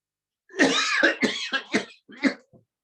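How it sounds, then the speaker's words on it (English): A series of loud, forceful coughs, about five in quick succession, close and harsh, followed by a brief pause and one last cough, done deliberately as a breathing exercise. "you breathe in and then you cough loudly for 3 to 4 times"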